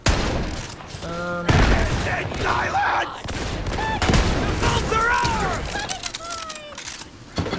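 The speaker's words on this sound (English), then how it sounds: "I guess the grenades are flying about." Gunfire and grenade blasts in the video game Borderlands 3, with dense bursts of shots and booms throughout a busy firefight, loud and continuous, with occasional game voices mixed in.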